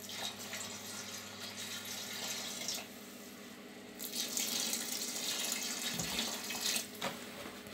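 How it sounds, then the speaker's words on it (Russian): Filtered water runs and splashes steadily into a container of plum wine must, a close continuous pouring hiss that swells louder midway and ends with gurgling. "я вылил 6 литров фильтрованной воды в обе емкости с суслом"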